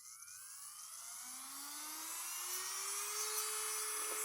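A small high-speed electric nail drill whines steadily at 30,000 RPM, its pitch climbing gradually as it spins up, a thin continuous buzz heard close and fairly quiet.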